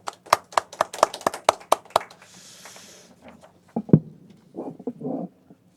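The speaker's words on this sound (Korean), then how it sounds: "박수로 환영을 하도록 하겠습니다." A small church congregation at a Sunday morning service claps briefly to welcome a visitor, with a quick run of close, sharp hand claps followed by scattered taps and soft noises.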